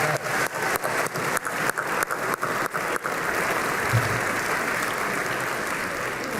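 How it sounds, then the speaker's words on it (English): Audience applause at a school winter concert, with sharp rhythmic clapping at first that settles into a dense, steady ovation. "Please give them all a round of applause,"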